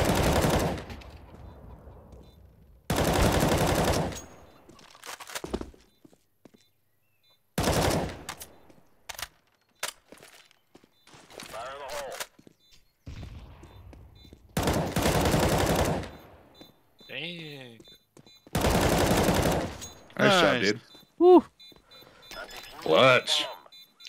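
Gunfire in the video game Counter-Strike: Global Offensive comes as several loud bursts of rapid shots, each lasting about a second, spread over the round between quieter gaps. People talk at times.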